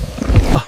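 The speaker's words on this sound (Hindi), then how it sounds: "A giant snake screams." A giant snake in a realistic 3D animated jungle battle lets out a short, deep roaring scream, loud and close, swelling briefly and then cutting off.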